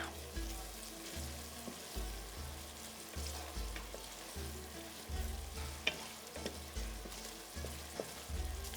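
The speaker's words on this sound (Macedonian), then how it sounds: "Кромидот е убав, свеж, полн со вода и гледате дека на него не му треба многу пржење" Onion sizzles steadily in a pan with thyme for manja with gnocchi, with soft rhythmic stirring scrapes recurring close by; no one speaks.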